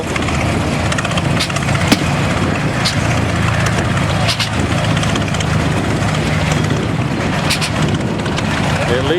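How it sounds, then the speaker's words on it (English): A vintage Rumely OilPull tractor engine runs at a farm show, a loud, steady, close-up chugging drone with constant low rumble and faint rhythmic knocks, continuous throughout. "Here's an old oil pull."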